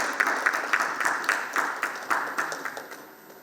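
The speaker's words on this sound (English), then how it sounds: "everyone welcome him with a round of applause" An audience at an analytics conference claps to welcome a speaker onto the stage, a steady run of evenly spaced claps from a small crowd that fades toward the end.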